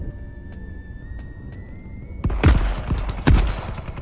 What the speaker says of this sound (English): Are we getting shot by that thing?